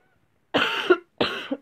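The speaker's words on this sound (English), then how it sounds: "I didn't think that I had this cough anymore" Two short, sharp coughs from one person, close and clear with a brief pause between them.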